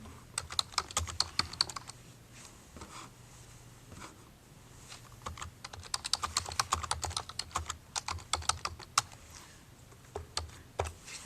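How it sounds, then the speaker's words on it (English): Someone types on a computer keyboard into an online class chat window. The keys click nearby in quick irregular bursts, with short pauses between runs. "Let me try typing in a chat over here."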